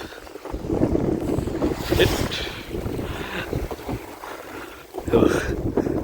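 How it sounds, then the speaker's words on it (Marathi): Strong wind buffets the microphone aboard a rolling boat at sea at dusk, with a steady rushing roar and water wash rising in gusts around two and five seconds. "वाऱ्याचा वेग पण बघा काही भन्नाट होत चाललाय बोट बघा काय रोलिंग करते"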